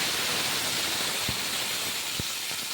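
Cubed potatoes dropped into hot mustard oil already spluttering with dried red chillies, bay leaves and whole cumin, giving a steady loud sizzle and hiss with a couple of soft knocks.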